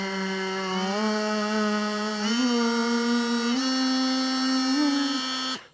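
A Ryobi power tool's motor runs at 20,000 RPM with a steady, high-pitched electric whine that steps up in pitch a few times, then cuts off abruptly at the end.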